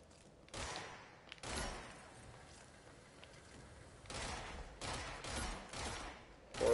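Gunfire in the video game Control: quiet bursts of rapid shots in a few clusters, with a louder volley near the end over a low ambient background.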